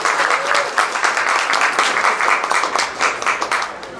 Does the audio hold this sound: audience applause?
yes